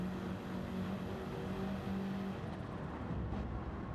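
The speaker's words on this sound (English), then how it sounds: "This is Hervas in his BMW" BMW race car lapping the Nürburgring Nordschleife in a 24-hour racing video game, a steady loud engine drone with tonal whine, fading slightly toward the end as it passes.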